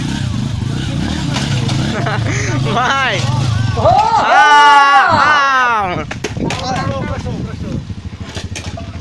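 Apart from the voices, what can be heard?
motorcycle engine revving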